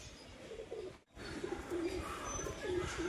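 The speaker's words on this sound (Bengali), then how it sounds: "আমাদের বাচ্চাগুলো বাড়ির মাথা থেকে দূরে সরে যাচ্ছে কবুতরগুলো।" Pigeons on a house rooftop on a windy day coo in repeated low, soft phrases close by, over steady wind rush with a brief gap in the middle.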